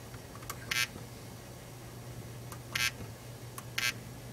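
A room alarm on a student-built electronics system arms with three short bursts of bright electronic beeping, spaced irregularly over a steady low hum and faint room noise.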